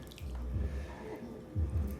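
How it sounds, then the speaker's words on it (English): Melted butter and minced garlic are poured over chicken wings, giving close, wet dripping and soft squishy splatters in two brief bursts, with no talking. "I'm just gonna pour it right over the top."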